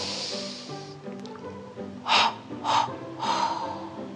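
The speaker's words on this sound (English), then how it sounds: "Breathe in through your nose and let's go." A young child draws in breath through the nose during a preschool winter yoga breathing exercise, three short close hissing inhales in quick succession, fairly soft against a quiet room.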